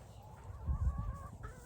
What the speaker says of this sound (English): The chicken up there on the fence.